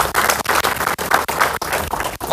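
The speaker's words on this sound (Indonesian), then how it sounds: "Tepuk tangan buat Bapak Ibu." Steady applause from a crowd at a property sales event in Surabaya, dense clapping with brief dips, fairly loud and close, no talking over it.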